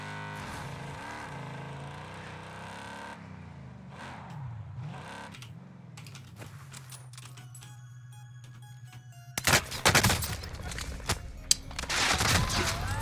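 Gunfire in Call of Duty on the Caldera map, with engine-like droning and game effects giving way to loud bursts of rapid shots near the end, dense and close.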